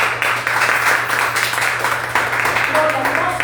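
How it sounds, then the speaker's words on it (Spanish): A church congregation claps together during a Sunday service, with steady applause running throughout under a noticeable background hum and some indistinct voices. "Dale un aplauso al Señor esta mañana"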